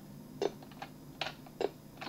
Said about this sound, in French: J'appuie sur le bouton du clavier